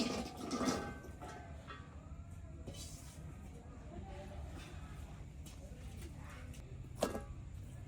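Water splashes and sloshes continuously as cut koi fish are rinsed in a rural kitchen before cooking, a close, steady rush of washing with a brief louder splash near the end.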